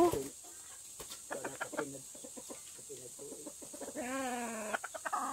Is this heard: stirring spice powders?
no